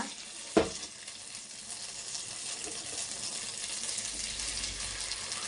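Ginger garlic paste sizzles in a pan with sweet corn for a masala fry, opening with a sharp clink of a spoon, then a steady soft crackle and hiss that builds slightly.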